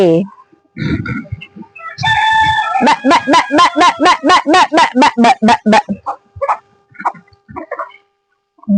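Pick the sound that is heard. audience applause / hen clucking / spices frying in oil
hen clucking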